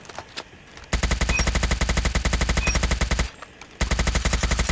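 Rapid bursts of automatic M4 rifle fire in a video game, two long sustained strings of evenly spaced loud shots separated by a short pause, with faint game ambience before the first burst.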